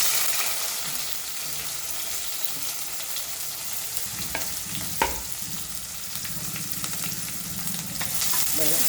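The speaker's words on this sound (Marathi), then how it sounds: "बघा, कांदे थोडे गुलाबी रंगावर तळून घेते" Sliced onions frying in oil with a bay leaf for chicken biryani, a continuous close sizzle with occasional stirring clinks and scrapes, no talk.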